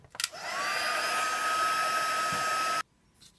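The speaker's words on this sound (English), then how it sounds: "So just going to again melt this with my heat tool." A heat tool blows hot air steadily for about two and a half seconds to melt a thick layer of sparkly embossing powder on a star for a winter card. A short click is heard before it, then it cuts off abruptly.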